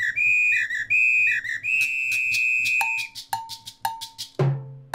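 Shrill whistle blasts in a rhythmic pattern, a long held blast, then bell-like hits over a soft percussive groove.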